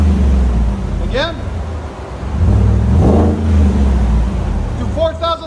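A 2017 GMC Sierra Denali pickup with a 6.2L V8 and a Vibrant resonator in place of the muffler revs loudly in a deep, throaty run, rising and falling across the clip, with voices talking over it.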